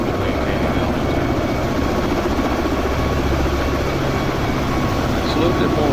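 Black Hawk helicopter in X-Plane 11 with rotor RPM held around 71–78%: a steady, loud rotor and turbine drone hums continuously beneath a voice.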